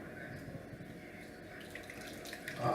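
Cherry wine is poured from a container, a soft, continuous liquid trickle and splash at low level with faint background noise, swelling slightly at the end.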